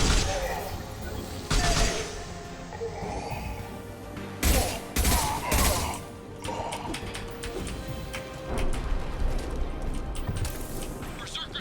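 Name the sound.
gunfire in the video game Mass Effect 2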